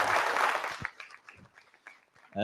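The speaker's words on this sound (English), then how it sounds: "let's get a big applause for that cool marketer." Audience applause at a marketing conference, a loud burst of clapping for just under a second that quickly thins out into scattered, fading claps.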